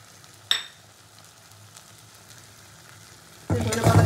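A spoon stirs bhorta, a mashed dish with coriander leaves, in a hot pan. A single clink is followed by a quiet lull, then a sudden close burst of sizzling and scraping near the end.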